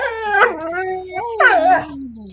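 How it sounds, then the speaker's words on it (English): A dog howls and whimpers in two long, close, rising-then-falling wails with yips at their peaks, loud and alone. "my dog is sabotaging my stream"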